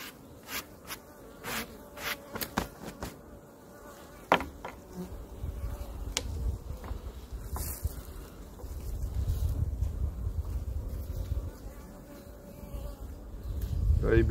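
Honeybees buzz around a hive while a small colony is moved from a nucleus box into a full hive, a steady insect drone with several louder passes close to the microphone and a brief burst of speech.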